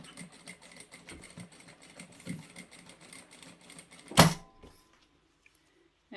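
A sewing machine stitches closed the zip ends of a fabric toiletry bag, making a steady mechanical whirr with rhythmic ticking. It stops with a sharp clunk, and near silence follows.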